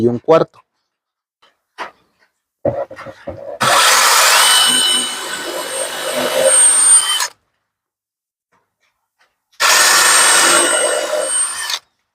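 A power drill bores two holes into a wooden drawer for 1.25-inch screws, heard as two loud, close, sustained whirring bursts separated by silence, with a few light knocks beforehand.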